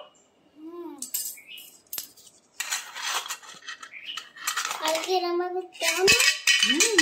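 A ladle stirs food in a small pot, giving irregular metallic clinks and scrapes up close, while a child and an adult talk in between.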